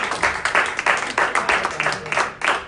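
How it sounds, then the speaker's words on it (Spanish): A church congregation claps in a rhythmic, unison beat, roughly five claps per second, loud and near, with faint voices mixed underneath. "Den un aplauso a su rey."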